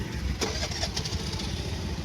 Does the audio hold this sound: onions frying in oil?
no